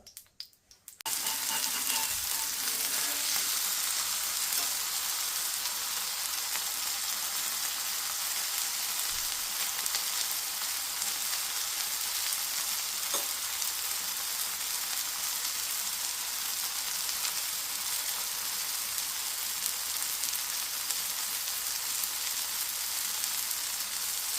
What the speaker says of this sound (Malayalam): ദോശക്കല്ല് ചൂടായതിന് ശേഷം നമ്മൾ റെഡിയാക്കി വെച്ചിരിക്കുന്ന കട്ട്ലറ്റ് ഇതിലേക്ക് വെച്ച് കൊടുക്കുക.